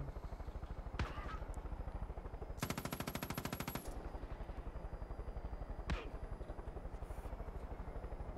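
Rapid automatic gunfire in the video game Far Cry, a dense burst of fast repeated shots with a few single loud cracks before and after, over steady rhythmic background rumble.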